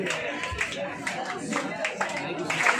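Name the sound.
applause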